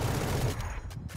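Rapid video game gunfire crackles in a short, dense burst of shots up close, then cuts off quickly.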